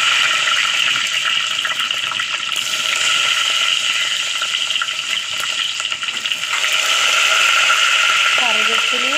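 Mustard seeds and curry leaves sizzle steadily in hot coconut oil in a pan, a continuous loud frying hiss that holds the whole time, with a brief squeak near the end.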